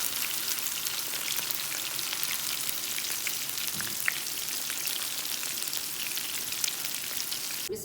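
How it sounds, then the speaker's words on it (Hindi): Spicy chicken koftas fry in hot oil with a steady, dense crackling sizzle that stays loud and even from start to finish. "कोफ्ते फ्राई हो चुके हैं"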